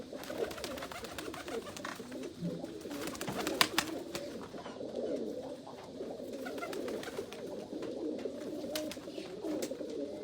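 Several pigeons coo steadily and overlapping, a dense low burbling chorus close by, with occasional wing flutters and clicks mixed in.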